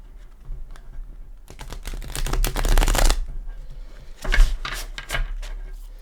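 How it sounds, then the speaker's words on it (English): New tarot card deck being shuffled by hand, two brisk riffling bursts of crisp card flutter, close and fairly loud, separated by quieter pauses. "they're just now starting to break in where I can shuffle them in this way"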